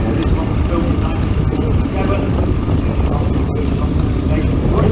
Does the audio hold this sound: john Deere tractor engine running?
yes